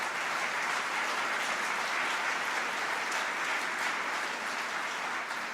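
Steady, dense audience applause fills the hall at a mayor's State of the City speech in Buffalo, a continuous even wash of many hands clapping at moderate distance, with no voices above it.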